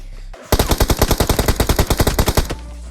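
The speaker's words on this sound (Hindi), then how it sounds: "अब ये मेरे ऊपर गोली चलाता है" Rapid automatic gunfire from BGMI (PUBG Mobile) in Skyhigh Spectacle mode, a loud burst of about twenty close, evenly spaced shots lasting two seconds, with no talk.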